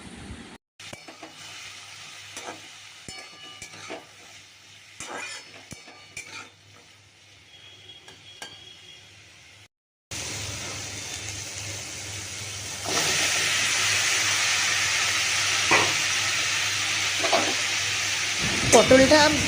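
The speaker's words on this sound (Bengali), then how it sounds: "তেলটা গরম করে আমি এর মধ্যে পটল দিয়ে দেবো" Pointed gourd dropped into hot oil in a wok on a home stove, first quiet clinks and stirring, then a loud, steady sizzle of frying that swells and stays strong to the end.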